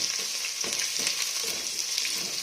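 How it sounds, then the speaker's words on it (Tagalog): Garlic and onion sauté in a pan for goat kaldereta, a steady close sizzle with faint stirring scrapes and no talk. "mag-gisa tayo ng bawang"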